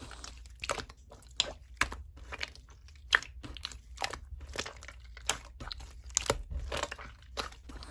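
Close, crisp crunching bites into a donut, repeated irregularly every half second or so, with soft chewing between the louder crunches and no talking.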